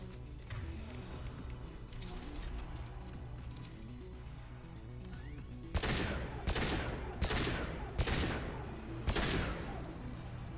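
Gunfire in the video game Mass Effect 2: a low, busy game backdrop gives way halfway through to a run of loud, sharp shots and bursts, about five strong volleys spaced roughly a second apart.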